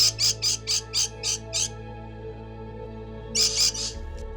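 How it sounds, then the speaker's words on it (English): Birds chirp in a backyard vegetable garden: a run of about seven quick, bright calls in steady rhythm, then a pause and three more chirps, all fairly close over a quiet background hum. "There's always an orchestra of birds from sun up to sundown every day."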